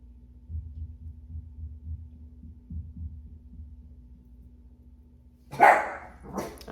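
Dogs barking nearby, one sharp loud bark bursting out near the end after a stretch of low muffled thumping, then a fainter second bark.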